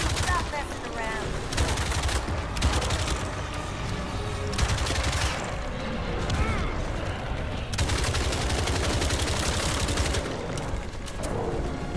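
Gunfire in the co-op shooter Toxic Commando, loud sustained automatic fire and bursts of shots with booms, continuing in dense stretches, with players talking over it at times.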